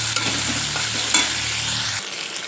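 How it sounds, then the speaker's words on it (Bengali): Shrimp with turmeric and salt frying in hot oil in a pan, a loud close sizzle with stirring scrapes that drops to a quieter hiss near the end, no one speaking. "এবার একটু নুন দেব, দিয়ে মাছগুলো ভাজা ভাজা করে নেব।"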